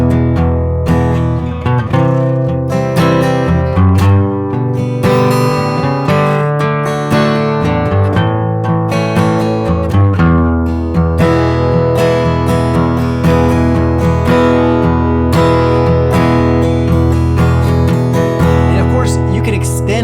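A guitar plays chord riffs with walk-ups to an open E, each chord approached by a quick run of three half steps. The strumming is loud, full and continuous, with ringing bass notes and no talking over it.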